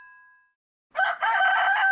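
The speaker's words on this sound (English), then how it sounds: "A rooster." A rooster crows loudly and close, one strained cock-a-doodle-doo lasting about a second, following a short fading tone and a moment of silence, with no talking.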